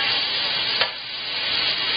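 Italian sausages searing in a hot pan for homestyle pasta sauce, a steady dense sizzle holding level throughout with one brief scrape partway, no voices.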